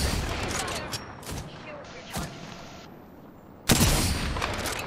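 Gunfire in the Apex Legends video game, a flurry of sharp shots and bursts, with a loud burst near the end, under players talking.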